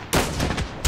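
A short burst of loud gunfire in the battle royale mode of Call of Duty Mobile, one sustained blast with a fresh shot hitting near the end.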